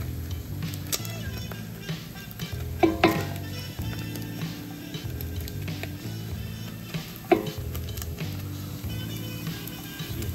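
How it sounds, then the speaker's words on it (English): Bolognese meat frying in a pan on high heat, a continuous close sizzle with low rumbling, broken by a couple of sharp scraping stirs of a utensil against the pan. "you see how it's frying perfectly"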